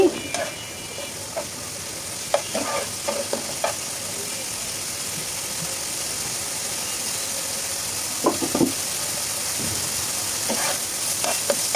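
Cumin powder and garam masala fry together in oil for a chicken curry with potato and papaya, a steady sizzle running throughout with repeated scraping and clinking of the stirring spoon at close range.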